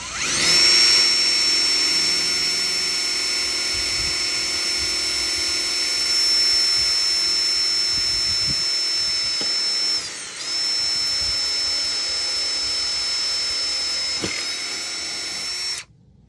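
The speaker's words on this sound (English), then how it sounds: "I'll go and I'll drill the pilot hole again." A power drill drilling a pilot hole for a solar cover reel assembly whines steadily at high pitch for about fifteen seconds, dipping briefly once as it bites, then cuts off abruptly at the end.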